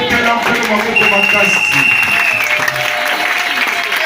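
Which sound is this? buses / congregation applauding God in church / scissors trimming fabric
congregation applauding God in church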